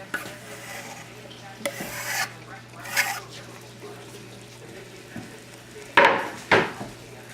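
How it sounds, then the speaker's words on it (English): Fresh basil is stirred into an avocado and tomato sauce for whole grain pasta: a few short, close scraping and rubbing strokes of a utensil against the pan, spaced apart, with quiet gaps between and no talking. "And give that a quick stir"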